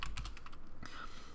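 Typing on a computer keyboard while setting up a particle material in Unreal: a quick cluster of close key clicks, a brief pause, then a few more taps, with no talk.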